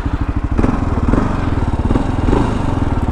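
A 2023 Kawasaki KLR 650 single-cylinder motorcycle engine while riding, a loud close pulsing thump with an even rhythm and a slight rise and fall in revs.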